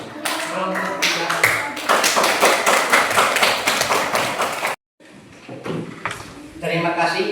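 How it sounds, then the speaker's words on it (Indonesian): Classroom applause for group 3 of students, a dense run of many hands clapping that cuts off abruptly, followed after a short gap by quieter scattered clapping and chatter. "Berikan aplaus untuk kelompok 3."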